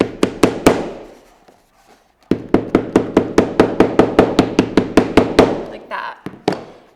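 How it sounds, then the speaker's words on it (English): A hammer strikes layered shoe soles over a table leg: a quick burst of sharp knocks, a short pause, then a long steady run of loud, even blows, with no speech. "So over a table leg, you would just do some hammer hits where you can reach from above."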